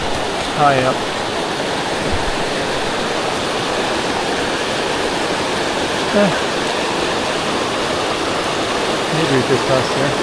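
Creek water rushing loudly and steadily through thick forest, a continuous close roar with faint birdsong chirps over it.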